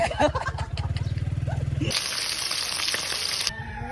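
A broadband hiss of frying grease swells in halfway through, loud and close, after a stretch of rhythmic engine-like chugging.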